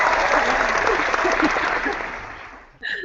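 A round of applause from a small group, steady clapping that gradually fades out before a voice briefly speaks at the end.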